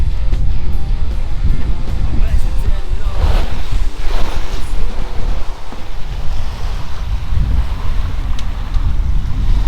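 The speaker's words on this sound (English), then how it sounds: "the sound of sailing is awesome to me." Ocean waves and steady wind rush around a sailboat under way, a loud, continuous broadband wash of surf and wind buffeting with no pauses.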